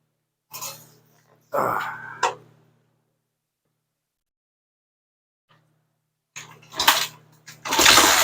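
A Kawasaki KLR 250 motorcycle with a freshly rebuilt carburetor cranks in short bursts, a gap of near silence, then catches and fires into rough running, close and fairly loud.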